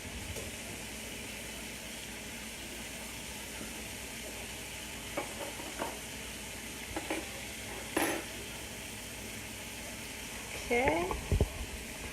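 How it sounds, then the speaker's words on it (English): Pasta simmers and sizzles in a pan for a blackened chicken cream pasta, with a few scraping stirs and clanks breaking a steady low hiss; a voice speaks briefly. "we'll give our pasta a little stir there"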